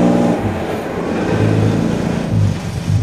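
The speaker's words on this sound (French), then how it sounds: "accélération en 4e vitesse." Nissan GT-R accelerating hard in fourth gear: a loud, close engine roar with strong harmonic bands that dip and climb again as revs rise, steady and continuous without any speech.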